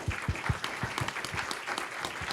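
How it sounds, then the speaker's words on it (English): Auditorium audience at a startup pitch day applauding, with close, distinct hand claps in an uneven rhythm over a dense background of clapping. "join me for a round of applause for the first half of the"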